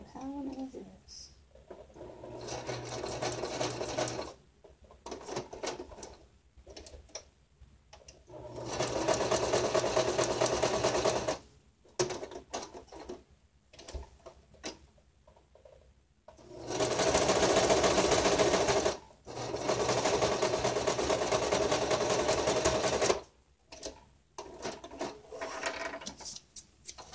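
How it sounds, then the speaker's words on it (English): A sewing machine stitches around a label on an altered book cover in several bursts of rapid mechanical whirring, each a few seconds long and separated by pauses with quiet handling sounds. "So I decided to stitch around and then just turn and go around the label"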